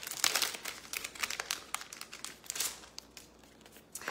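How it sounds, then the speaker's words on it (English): Sticker sheets crinkling and peeling as stickers are pulled out and pressed down while decorating surfboard décor, soft close rustles and crackles with no talking. "Let's grab our stickers out, place them down."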